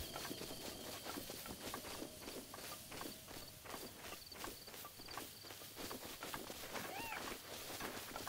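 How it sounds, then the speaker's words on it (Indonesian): In Zelda: Breath of the Wild, a horse's hooves clop in a quick, steady rhythm near Hateno Tower. The sound is faint and low-level, with a few brief game chimes layered over it. "Ada kuda lagi, yuk kita nangkep kuda lagi yuk."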